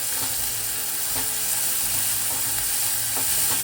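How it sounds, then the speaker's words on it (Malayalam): Onion sautéing with turmeric powder in a hot pan gives a steady, close, bright sizzle, with faint scrapes of stirring throughout. "മഞ്ഞൾപ്പൊടി ചേർത്തിട്ട് വഴറ്റാം"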